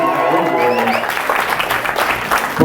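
A hall audience at a live performance claps and cheers loudly and continuously, a dense wash of applause with some voices rising through it.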